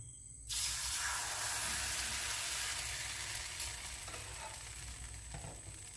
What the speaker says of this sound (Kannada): ಇನ್ನು ನಾವು ಸ್ವಲ್ಪ ಎಣ್ಣೆ ಹಾಕಿ ದೋಸೆ ಹೊಯ್ದರೆ ಆಯಿತು